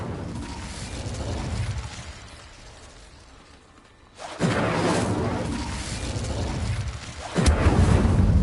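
Incendio fire spell cast in Hogwarts Legacy: a sudden loud whooshing blast erupts after a quieter stretch, followed by a second, even heavier burst with booming low rumble.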